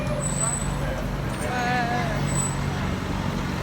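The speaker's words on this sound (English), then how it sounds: "And there's a bus." A London bus moves through busy street traffic near Westminster, a low engine drone and road noise with brief high air-brake hisses, while a person talks over it.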